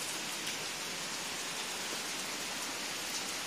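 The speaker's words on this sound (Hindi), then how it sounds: "अब देख सकते हैं बहुत ही ज़्यादा बारिश हो रही है" Heavy rain pours steadily in a hill setting on a foggy morning, a dense, loud and continuous hiss with no voices over it.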